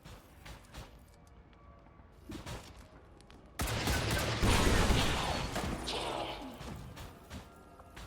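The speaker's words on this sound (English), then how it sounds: "use the micro missiles because we can get damage on both of these targets with those" Micro missiles fire in the video game XCOM 2: War of the Chosen, a sudden loud burst of launching and explosive crackle that begins midway and then trails off, after quiet mechanical clicks.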